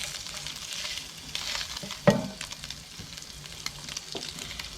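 Fish frying outdoors in butter and spices, sizzling steadily with light stirring and scraping, one sharper clatter midway, no talking.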